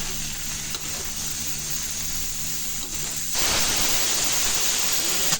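Okra frying in a pan for bhindi fry in a home kitchen, a soft hiss that swells abruptly into a louder, steady broadband sizzle partway through, with a faint background hum and no talk.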